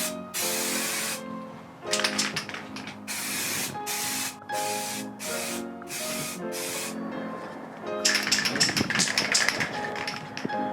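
Repeated loud hissing bursts of an aerosol spray can painting the under edge of a Toyota Corolla body panel, close by, in a series of short and longer blasts with brief pauses between.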